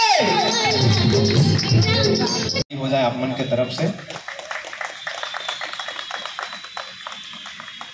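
A voice speaks over the crowd, then a large audience at a 50-million-views celebration for a song breaks into sustained cheering and clapping that fills the rest of the moment.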